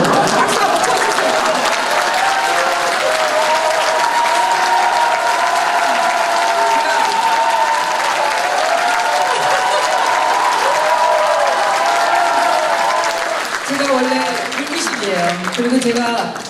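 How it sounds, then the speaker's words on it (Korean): A large audience at a Korean political talk concert breaks into loud, sustained applause that fills the space for about thirteen seconds, then thins out as a voice begins speaking over the last scattered claps. "박수 한번 쳐주세요"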